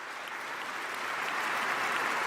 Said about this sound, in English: she got a standing ovation and wept as everyone clapped